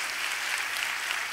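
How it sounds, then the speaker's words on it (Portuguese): A crowd at a women's church gathering claps in a thick, unbroken burst of applause, loud and even, with no voices on top. "Aplauda o Senhor por cada uma dessas vidas."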